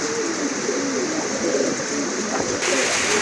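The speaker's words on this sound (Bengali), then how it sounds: "খুবই সুন্দর এক জোড়া কবুতর" A pair of pigeons cooing softly close by over a constant broadband background hiss, low murmuring calls running through the short stretch.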